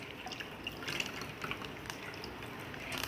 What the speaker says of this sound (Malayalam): പാലൊഴിക്കുന്നുണ്ട് നമ്മൾ.